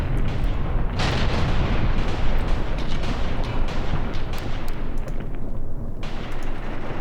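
Guns fire in a Graviteam Tactics battle against tanks, a dense barrage of booming shots and explosions rolling on continuously, loud and close.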